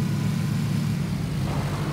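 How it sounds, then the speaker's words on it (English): A steady low engine drone of a propeller plane in a video game hums continuously at moderate volume without breaks. "That's a plane behind us."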